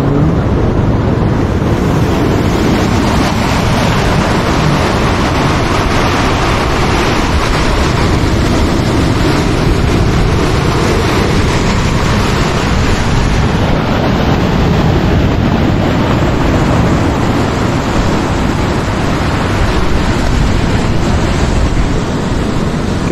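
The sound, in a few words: sea waves on a Croatian beach in winter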